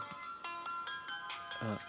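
A phone ringtone chimes in short repeating tonal bursts, moderately loud, with a brief low voice-like sound near the end.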